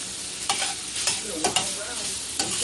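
Shrimp sear in a pan for lobster and shrimp mac and cheese, a bright loud sizzle with several sharp scraping stirs spaced through it.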